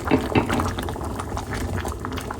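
A pot of chickpea lentil curry with egg and coconut bubbles at a rolling boil, a close, steady mass of small pops and gurgles without speech.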